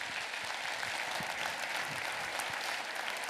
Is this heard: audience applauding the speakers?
yes